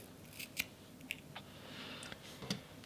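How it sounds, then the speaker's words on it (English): Scissors snipping yarn while finishing a crocheted turtle plushie, a few faint sharp clicks and snips spaced across a quiet background. "snip my yarn,"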